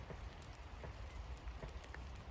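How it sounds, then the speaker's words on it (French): Meltwater from melting snow drips off a roof during rain in Metz in December, a steady hiss of rainfall with scattered close drips tapping through it and no voices. "Ah, donc ça s'égoutte du toit et vous voyez la pluie."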